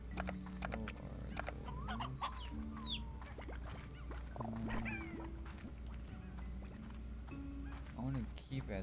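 Chickens in the video game Slime Rancher cluck and squawk in short repeated bursts under steady game ambience, with a person talking over them throughout.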